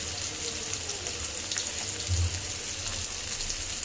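Onion and tomato sauté in a pan for a cauliflower and green pea vegetable dish, giving a steady low sizzle and faint stirring scrape throughout, with no talk.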